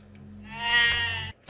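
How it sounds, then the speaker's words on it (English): A sheep bleats in the video game Catherine Classic as it falls: a single drawn-out, wavering cry, loud and close, ending abruptly. "I like the sheep falling."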